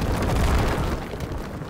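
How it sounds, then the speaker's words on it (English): A large artillery shell explosion in the Gates of Hell video game during a city siege battle with tanks: a heavy, rumbling boom that rolls on and slowly fades. "Big explosion. I'm not sure what fired that."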